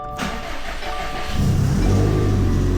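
A Subaru STi engine starts up on a cold morning: a brief cranking whir catches, then settles into a loud, steady, rumbling idle close by, with no talking.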